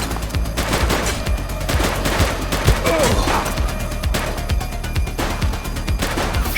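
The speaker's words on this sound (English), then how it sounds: "Shots fired!" A police shootout in the open-world game The Precinct brings loud, dense automatic gunfire, overlapping rapid bursts with a few heavier impacts, sustained throughout the clip.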